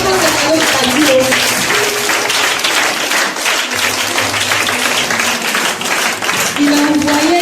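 Audience at a children's church event applauding and cheering, loud crowd clapping mixed with shouts and voices and some tonal music running underneath throughout.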